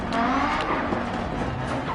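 A small car's engine roars and its tires skid in a PS4 racing game, a dense, steady wash of motor noise with no gaps and no talking.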